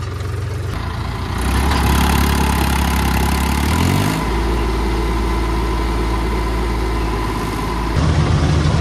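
A John Deere 5038 tractor's diesel engine runs loudly up close, stuck hauling a paddy-laden trolley out of wet ground, revving up and holding a strained steady roar before dropping back toward idle near the end.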